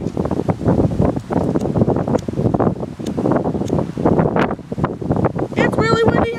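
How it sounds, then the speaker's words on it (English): Heavy wind buffeting the microphone in loud, rumbling gusts throughout, with a few faint higher tones near the end. "It's really windy out."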